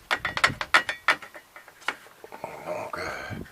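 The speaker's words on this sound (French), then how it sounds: "J'ai un gros bruit dans le vélo quand je roule." Rapid clattering and ratcheting from the drivetrain of a pedal-powered camper van built from scrap, a burst of loud mechanical ticks and knocks that then settles into a rougher grinding rumble.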